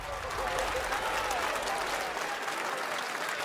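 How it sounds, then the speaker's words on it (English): A large live crowd at Summer Game Fest 2023 applauds and cheers steadily, a dense wash of clapping and hollering that holds for several seconds before easing slightly. "They've paid people to cheer in the audience"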